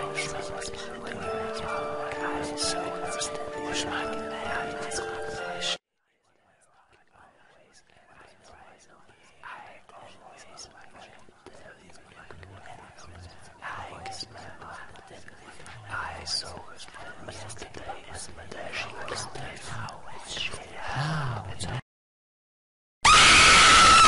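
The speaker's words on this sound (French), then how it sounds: "J'entendis alors des chuchotements autour de moi" Eerie whispering voices murmur and hiss in a long, low, rising layer after a burst of music cuts out, with faint strained cries mixed in, all set in a horror story about a psychiatric hospital.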